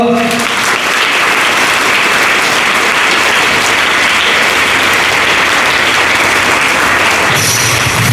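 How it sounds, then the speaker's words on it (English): A crowd of schoolchildren and staff at an Independence Day assembly claps for a sister who coordinated the event, loud continuous applause sustained throughout, with a change in the room sound near the end. "Let's give a good clap to her"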